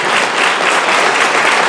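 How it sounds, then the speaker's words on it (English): Steady audience applause fills the room, a dense, even wash of many hands clapping at a constant loud level throughout, with no voices over it. "I like the applause, and the last applause I'll get tonight"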